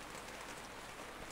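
Steady rain hisses across an outdoor funeral scene in the video game DISTRAINT, a faint, even downpour with no distinct drops standing out and no voices.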